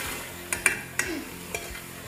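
Mixed vegetables with garlic and ginger fry in oil for egg fried rice, giving a steady soft sizzle with a few sharp clinks of a spoon against the pan.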